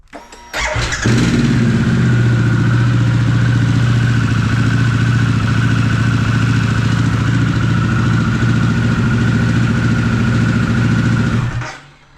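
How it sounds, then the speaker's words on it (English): A Harley-Davidson Pan America motorcycle engine cranks and catches after an oil change, then settles into a steady, loud idle that runs for several seconds before cutting off. "We'll give the bike a start, get the oil in through the engine."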